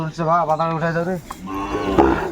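Sahiwal cattle at a farm in Netrokona, Bangladesh, give a loud, drawn-out moo with a rising, wavering tone, followed by a second lower, rougher lowing call close by.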